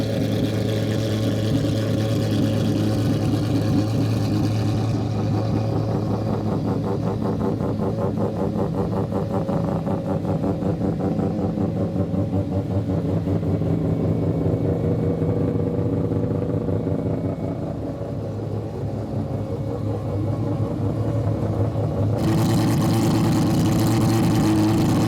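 Several rotary-engine cars rev together, a loud, sustained buzzing engine roar with rising and falling pitch that carries on for the whole stretch at close range, with no talk.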